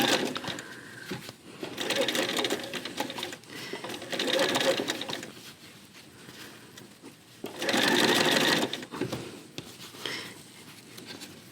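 A sewing machine stitches a tight curved seam in a quilt tile block, running in slow bursts of whirring stitches separated by pauses, with soft fabric handling between runs.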